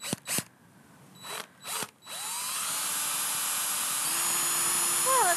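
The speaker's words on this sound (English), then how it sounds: "we've got a drill hole all the way through" A power drill bores a hole through a ceramic bowl with a free-form foot, starting with a few short bursts and then running steadily, whining loud and close, with a rising pitch near the end.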